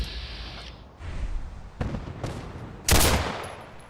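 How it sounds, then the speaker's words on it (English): Gunfire in the video game Fallout 4, several bursts and single shots cracking out across the clip, ending in one loud close blast, with no talk over it. "Hear more gunfire."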